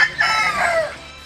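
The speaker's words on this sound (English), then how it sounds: "That rooster will totally attack us" A mean rooster kept among ducks at an urban farm in Detroit lets out a single loud, close crow that rises and trails off, heard alone without speech.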